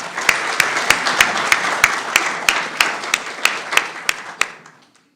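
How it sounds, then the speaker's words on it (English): Clapping at a county candidates' forum in 2025: sparse, evenly spaced claps in a steady rhythm, fairly close, tapering off and stopping near the end. "Let's give candidate Radabaugh a round of applause"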